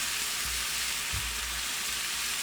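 Chicken pieces for a honey garlic dish fry and brown in a hot pan with a steady, even sizzle, joined by a couple of soft thumps as the pieces are turned.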